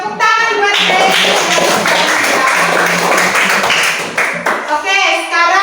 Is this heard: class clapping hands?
yes